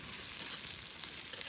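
Green chili, ginger and garlic fry in a pan outdoors, a faint steady sizzle with light stirring scrapes, quiet and without talk.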